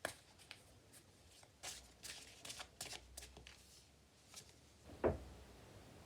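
Tarot cards being shuffled for a reading, a soft run of riffling and flicking bursts at close range, ending in one sharper snap of the deck.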